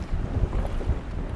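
Wind gusts over open turquoise sea water near coral at low tide, a steady low rumble of blowing air buffeting the microphone with faint water wash beneath, no voices.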